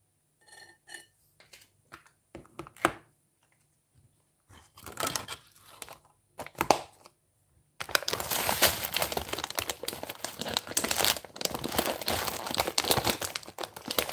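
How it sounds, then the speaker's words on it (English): Crackers crunching: a few sparse crinkles and taps at first, then steady, dense, close crunching that keeps going to the end. "This will be noisy, this crunching crackers."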